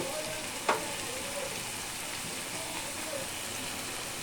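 Fish with pointed gourd and potato frying in a pan, giving a steady, even sizzle throughout with one brief sharp click early on; no talking.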